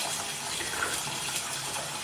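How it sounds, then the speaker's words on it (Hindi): Stored rainwater running from a tap in Australia, a steady close gushing splash of water flowing continuously, with no talking. "मतलब सीधा नल से अगर पीना हो तो ऐसे करके"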